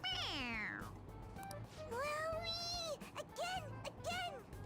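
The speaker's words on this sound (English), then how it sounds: "It meows when you press on its head." A squeaky toy creature in the game Persona 5 Royal lets out a series of drawn-out, high cat-like meows when its head is pressed, three or four calls in a row, clear and close over a low background hum.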